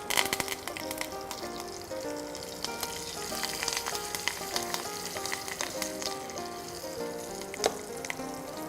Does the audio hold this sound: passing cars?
no